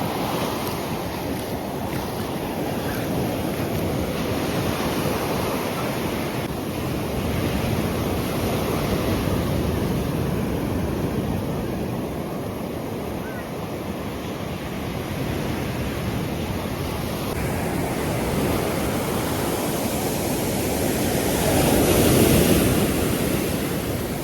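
Steady sea surf washing onto the beach at Sanzhiika at dusk, a continuous dense roar of breaking waves mixed with wind buffeting the microphone, swelling slightly near the end.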